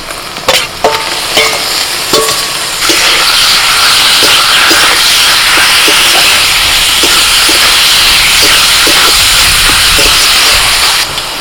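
Chicken pieces hit a pan of half-fried onions for a village-style chicken kachori filling, setting off a loud, steady sizzle and hiss. A few stirring clinks and scrapes come early, then the frying roar holds evenly to the end.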